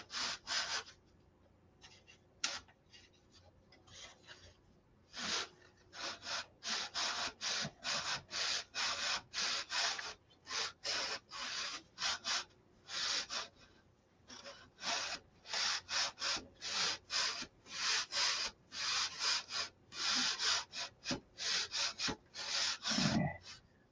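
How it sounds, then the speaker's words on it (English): Hand sanding on wood at a hinge, a long run of quick, rhythmic back-and-forth rasping strokes, close and fairly loud, with brief pauses between bursts and no talking. "So it actually needs to be sanded right there."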